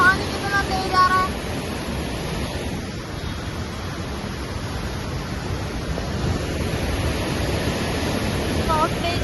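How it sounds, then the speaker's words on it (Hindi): Fast-flowing water stream rushing steadily nearby, a continuous loud broadband roar that fills the whole scene without break. "देखना भाई पानी कितना तेज आ रहा है।"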